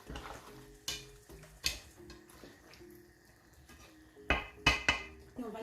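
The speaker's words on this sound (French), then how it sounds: "Mélanger le tout." A peanut soup mixture with chicken is stirred in a pot, giving scraping and clinking knocks of a utensil against the metal, with a few louder clatters near the end and soft background noise.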